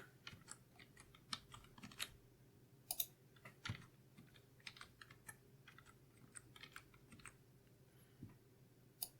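Quiet keystrokes on a computer keyboard in irregular bursts of clicks over a low steady hum, a password being typed with no voices.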